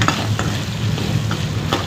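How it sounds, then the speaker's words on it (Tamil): Garlic sizzles in a hot pan for a curry while being stirred, with a steady close frying hiss and a few soft scraping strokes of the spoon. "அடுத்தது பூண்டு போட்டுக்கலாம்."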